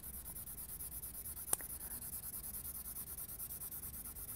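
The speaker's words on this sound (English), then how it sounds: "So I'm going to lay down a layer of colour soft pencil." A soft coloured pencil shades across paper in steady, faint, rhythmic scratching strokes, quiet and close, with one small tap or click midway.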